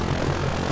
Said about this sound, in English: Do cool flyby there